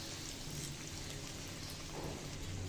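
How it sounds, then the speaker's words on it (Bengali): Dense, even hiss of egg potato chops frying in hot oil over medium heat, a brief unbroken sizzle heard close up without speech. "এভাবে মিডিয়াম জাল রেখে চপগুলো ভেজে নিব"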